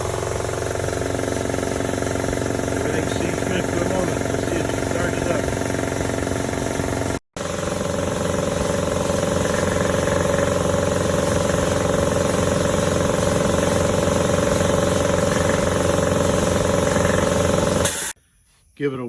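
A shop air compressor starts up after an oil change and runs with a loud, steady mechanical chug and hiss, cutting out briefly once before resuming, then stopping near the end.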